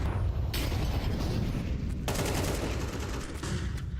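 Gunfire in a CS2 match ending in a headshot, with sharp shots and short bursts over a constant background rumble, each crack fairly loud and close.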